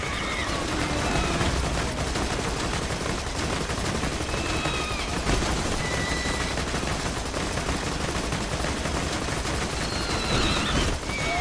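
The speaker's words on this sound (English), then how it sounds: "the vehicle guns have unlimited ammo and apparently don't heat up" Vehicle-mounted guns firing in the video game Borderlands 2, a dense, continuous rattle of rapid gunfire that stays loud and steady throughout, with scattered game effects and creature cries over it.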